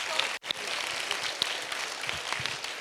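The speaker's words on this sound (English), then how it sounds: "Clap louder." Students at a school house masquerade event clapping, a sustained crowd applause with scattered sharper claps and a brief dip early on, continuing steadily to the end.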